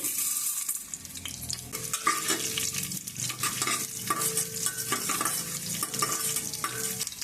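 Mustard seeds, cumin, dried red chillies and urad dal tempering in two tablespoons of hot oil: close, crackling sizzle with rapid popping bursts and frequent spatula scrapes against the pan.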